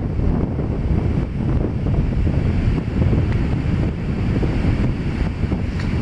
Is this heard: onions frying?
no